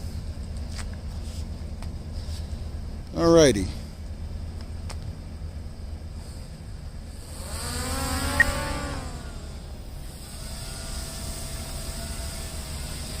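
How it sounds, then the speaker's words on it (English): A DJI Mavic Air 2 drone flies outdoors in the morning, its whine sweeping up and down in pitch over steady wind-like noise, with a brief loud swoosh early on and a short spoken word. "Gonna take the drone up."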